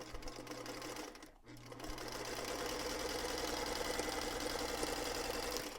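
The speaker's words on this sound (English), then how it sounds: "then we'll sew 1/4 inch on each side of that line" A sewing machine stitches quarter-inch seams on quilt fabric, a continuous fast mechanical whir close by that pauses briefly and then runs steadily again.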